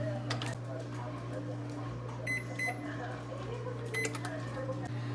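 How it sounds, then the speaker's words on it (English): A microwave oven runs on a kitchen counter while melting butter, giving a steady low electrical hum throughout with faint clicks and light clatter, and a voice speaks briefly over it. "Next thing we're going to do is we're going to melt this in the microwave."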